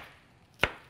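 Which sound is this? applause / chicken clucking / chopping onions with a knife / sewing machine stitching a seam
chopping onions with a knife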